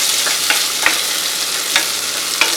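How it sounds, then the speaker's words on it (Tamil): Small shallots cut roughly in halves sizzle and fry in a pan for a Tamil crab masala curry, a steady bright crackle with a few sharp stirring knocks, close and continuous with no talk. "சின்ன வெங்காயத்தை நல்லா வதக்குங்க."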